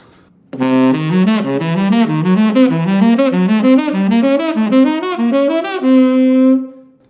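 A guitar plays a fast, evenly picked run of arpeggios built on each degree of the diminished scale, climbing and falling in a steady pattern before ending on one held note, loud and close with no talking.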